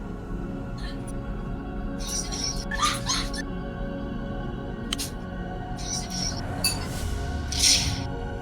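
A pet dog whimpers and yips in short, high, broken bursts close to the microphone, repeated several times over a low background hum.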